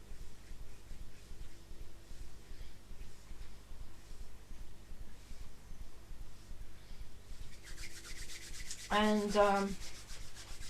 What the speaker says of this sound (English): let's rub the hands together